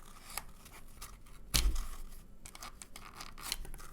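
Scissors cutting through a cardboard roll for a craft, several crisp snipping and tearing sounds close up, with one louder crunch near the middle, quiet between cuts.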